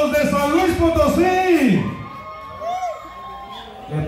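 Crowd at a fifteenth-birthday party with a huapango band, shouting and cheering loudly in a brief burst that fades into murmuring voices.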